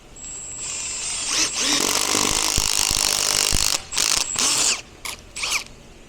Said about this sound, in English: So we will take this tool, that's the tire reamer, and we'll stick it into that hole.